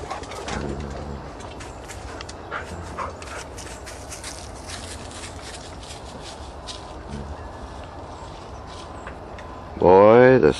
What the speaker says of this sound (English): the Sparrows and Cardinals love the corn